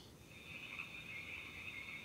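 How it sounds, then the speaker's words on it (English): Woodland night ambience from a HEYVALUE white noise machine for babies, with steady high cricket chirring and a few frog croaks over soft background hiss, faint and continuous. "crickets or frogs or both."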